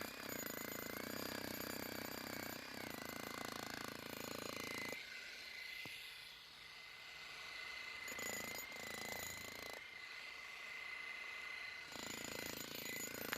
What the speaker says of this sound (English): it's hard to operate a jackhammer and a phone